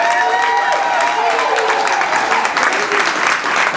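A crowd at a CD release party claps and applauds loudly and continuously, with scattered cheers and voices mixed into the dense clapping.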